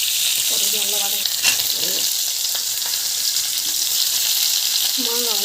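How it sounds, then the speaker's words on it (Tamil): Mustard seeds and onion fry in a hot pan with a steady, loud sizzle throughout, while a voice speaks briefly over it near the start and again at the end. "கடுகு நல்லா வதங்க."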